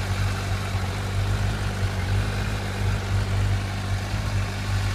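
A 2008 Honda CBF 1000 motorcycle engine idles steadily with a low, even rumble and faint mechanical ticking, continuous throughout with no talking.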